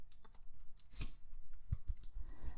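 A deck of zombie cards for a board game is shuffled close by, a quiet run of papery riffles and soft flicks with a few sharper taps, no voices.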